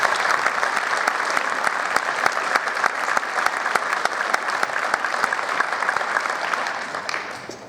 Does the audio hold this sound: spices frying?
no